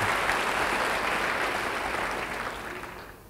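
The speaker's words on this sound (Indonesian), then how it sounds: "Yang percaya, beri tepuk tangan bagi dia." A church congregation claps together, loud and sustained at first, then slowly fading over a few seconds.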